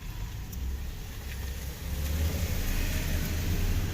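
A Chevrolet Silverado with a misfire revs under throttle, a low, rough engine rumble swelling louder halfway through and holding steady, heard close with no talking.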